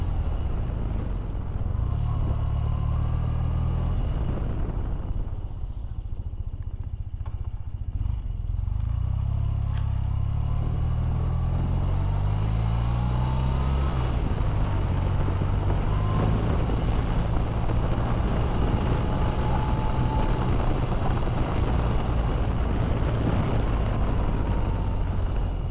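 A BMW Airhead motorcycle, fitted with modern brakes replacing the old ATE setup, on a test ride: a steady engine drone with shifting revs, heavy wind rush and road clatter throughout.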